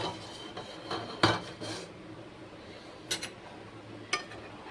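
Dishes and a bowl handled while serving chana chaat at home, a few sharp clinks and light knocks spaced out over quiet background, close and fairly soft.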